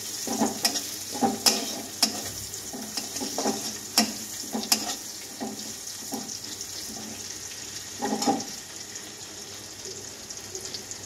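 Tomato going into a frying pan with green chillies, followed by stirring: repeated scraping clatters and bursts of sizzle over a steady frying hiss, close and moderately loud, with no talking.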